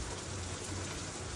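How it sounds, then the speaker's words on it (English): Dense, steady hiss of heavy rain pouring down on a crop field, loud and unbroken throughout, with no voices. "It's raining pretty hard."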